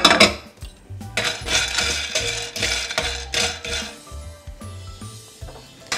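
Chickpeas tossed into a pan of hot oil, giving a clattering of metal and cookware knocks with a faint sizzle underneath, close and fairly loud throughout.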